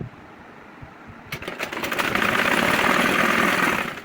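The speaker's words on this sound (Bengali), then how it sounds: "টুপির যে শুরু এইখান থেকে আমরা এটা এখন সেলাই দিয়ে যাবো" A sewing machine stitching a hijab cap, starting after a quiet pause with a few quick clicks, then running into a steady, close mechanical whir that tapers off at the end.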